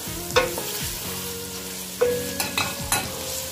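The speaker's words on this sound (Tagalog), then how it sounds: "So, ayan, ihalo natin siya, guys. Ihalo-halo." Buldak cheese ramen guisado stirred in a pan, with a low sizzle under a few sharp spatula scrapes and clacks against the metal, close by and without speech.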